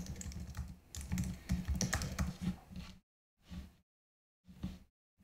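Keys clatter on a computer keyboard as a password is typed, a quick close burst of clicks followed by two short isolated keystroke clusters separated by silence; quiet overall.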